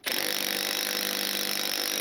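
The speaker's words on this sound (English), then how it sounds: "Now we gotta hold that one against this one while we ratchet it again." A ratchet wrench tightens a fastener, starting abruptly into a loud, close, continuous rapid buzzing that holds steady for about two seconds.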